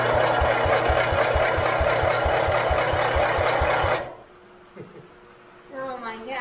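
An old, long-forgotten lawn mower engine with a compression leak at the cylinder head gasket runs loudly with rapid, even firing pulses, then cuts out abruptly. Quiet voices and faint clatter follow.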